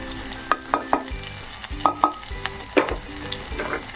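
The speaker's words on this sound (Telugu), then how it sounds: "బాగా ఈ అల్లం వెల్లుల్లిపాయ ఫ్రై చేసుకోవాలండి" Freshly pounded ginger garlic paste fries in ghee in a pan, a steady sizzle broken by repeated sharp clinks of a spoon stirring against the metal.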